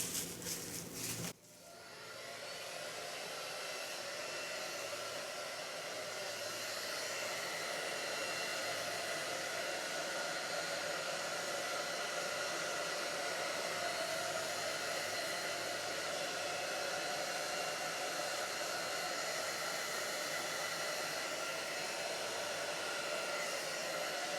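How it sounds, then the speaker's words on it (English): A hair dryer blows steadily and loudly onto resin, a constant whooshing hum that starts abruptly after a brief moment and continues unchanged throughout. "Let's hit it with a hairdryer."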